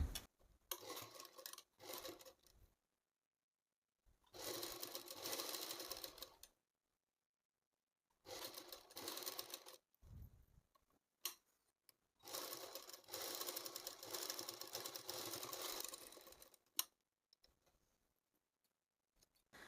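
A sewing machine stitches a shoulder joint in several separate runs, each a rapid mechanical whirring rattle, with quiet gaps between the bursts.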